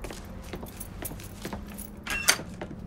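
Truck keys jangle in Mafia III: Definitive Edition, a short bright metallic rattle rising out of a steady low rumble of background game ambience.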